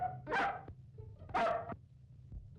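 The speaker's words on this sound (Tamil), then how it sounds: "என்ன ஸ்டேஷனுக்குள்ள நாய் வந்துருச்சே?" A dog barks inside a police station, two loud, close barks about a second apart followed by a faint short yip, with a low steady hum underneath and no talking.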